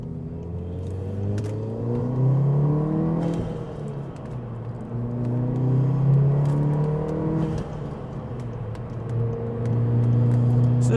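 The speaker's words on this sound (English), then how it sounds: "So this thing actually sounds fantastic. I really do like the blow-off valve." A 2018 Volkswagen Golf R with a six-speed manual, engine revving up through gears inside the cabin, rising droning pitch sweeps that drop at each shift, steady and fairly loud, no talking.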